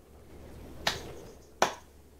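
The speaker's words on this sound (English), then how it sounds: "My slow clap processor made it into this thing." Two sharp, isolated claps in the video game Portal 2, spaced slowly apart in an otherwise quiet scene.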